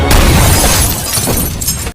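A gunshot in a film tears out as one loud, harsh burst that stays dense and noisy for nearly two seconds before cutting off abruptly.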